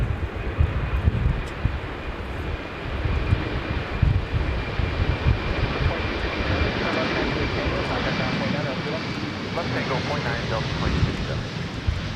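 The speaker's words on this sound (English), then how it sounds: "Now arriving on runway 22 from Winnipeg is Delta 2257 with an X Northwest A320." A 32-year-old Delta Airbus A320, formerly flown by Northwest, arrives on runway 22 at Minneapolis–St. Paul in a crosswind. A loud, continuous jet roar fills the clip, with a thin sustained whine and a gusty rush behind it.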